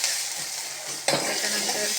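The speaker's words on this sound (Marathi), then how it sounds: "पहिले घातले खोबरं, कांदा, टमाटा ह्याला लाल करून घ्यायचे चांगलं." Coconut, onion and tomato fry in a pan with a steady close sizzle, broken by a sharp burst as ingredients are stirred or added partway through, then the hiss continues.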